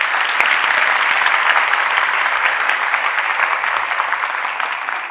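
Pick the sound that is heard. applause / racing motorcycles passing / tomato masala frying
applause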